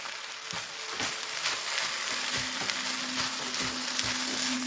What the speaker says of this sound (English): So make sure you mix that up really good in your fried rice.